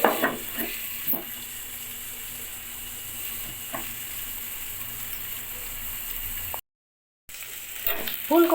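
Cauliflower and potato pieces fry under a lid in a pan with a soft continuous sizzle, punctuated by a few light clinks and stirring scrapes, with a brief dropout near the end.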